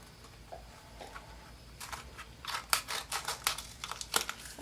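Scissors snip through paper to cut pieces for a snowman ornament, a quiet run of crisp, rapid clipping and crinkling that starts softly and grows busier toward the end, close and alone.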